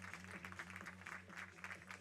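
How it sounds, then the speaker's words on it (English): Faint crowd applause for a player at an amateur German baseball game, München Haar Disciples vs. Mainz Athletics, a distant soft patter of clapping under a steady low hum. "he's going to get a round of applause"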